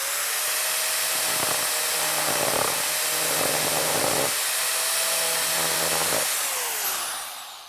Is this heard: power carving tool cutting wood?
yes